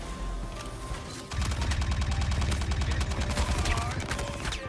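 Rapid automatic gunfire from a player's gun in the space game Star Citizen, a loud, steady burst of closely spaced shots that starts abruptly and keeps hammering without pause.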